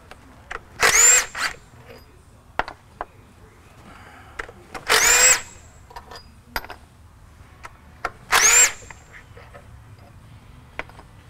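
A power tool loosening bolts on a 2003 Dodge Cummins whirs in three short bursts of a few seconds each, separated by quiet pauses with faint clicks and clanks.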